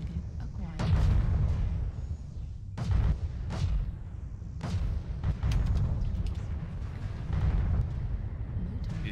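Heavy weapon fire and booming explosions from MechWarrior Online battle mechs, loud repeated blasts in irregular bursts with a voice talking between them.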